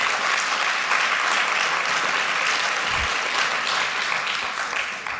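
An audience breaks into sustained applause, a dense, even patter of many hands clapping that carries on throughout with no speech over it.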